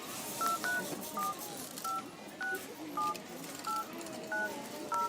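Telephone keypad tones beep one after another as a member number is entered, short dual-pitched blips in an uneven rhythm over a faint hiss.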